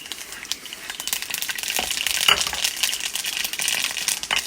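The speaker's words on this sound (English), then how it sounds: "Put in mustard, splutter the mustard" Mustard seeds pop and splutter in hot oil while tempering the seasoning for kalan, an Onam sadhya dish. A dense, steady crackle of rapid close-up pops rides over continuous sizzling throughout, with no talking.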